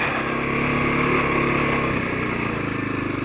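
A Kawasaki KLX250SF dual-sport motorcycle idles with a steady, close engine drone while being parked, the low rumble pulsing slightly toward the end with no voices.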